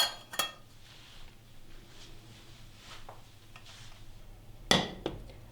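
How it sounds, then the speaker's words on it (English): A metal sieve is set down on a cooking pot of zucchini noodles, giving a sharp clink at the start and another clattering contact near the end, with quiet kitchen background between. "I will take the sieve and put it on the pot."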